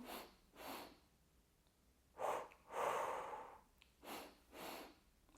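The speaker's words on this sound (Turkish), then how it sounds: "Yine burnumdan nefes alıyorum." Slow, deliberate nasal breaths from a pregnancy breathing exercise: a series of soft inhales and exhales in even pairs, close and quiet, with no talking over them.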